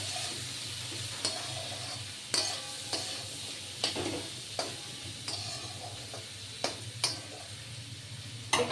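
Utensil stirring small fish frying with turmeric in a pan: a steady low sizzle with scattered scraping clicks and taps at irregular intervals, fairly quiet, no voices.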